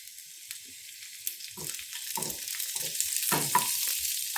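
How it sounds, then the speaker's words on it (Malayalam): Mustard seeds, sliced shallots and curry leaves tempering in coconut oil, a sizzle that grows louder as ingredients go in, with crackling pops and spatters near the pan and no talking. "ഇനി നമുക്കിതൊന്ന് താളിച്ചൊഴിക്കാം. 1 ടേബിൾ സ്പൂൺ വെളിച്ചെണ്ണ, 1 ടീസ്പൂൺ കടുക്, ചുവന്ന ഉള്ളി വട്ടത്തിലരിഞ്ഞത്, കറിവേപ്പില,"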